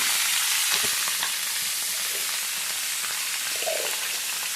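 Papaya and potato pieces fry in a pan, producing a loud, steady, close sizzle that fills the whole stretch, with a few faint stirring clicks and no voices.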